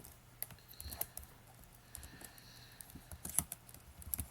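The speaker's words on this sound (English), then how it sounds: "I read the comment and started typing that." Quiet, irregular keystrokes on a computer keyboard, scattered light clicks over a low background hum.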